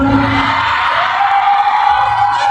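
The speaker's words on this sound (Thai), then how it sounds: "ตะโกนคำว่าเหงาดังๆได้ไหมครับ" Concert crowd in Thailand shouting loudly in unison at the singer's prompt, a brief, dense wall of voices heard close up.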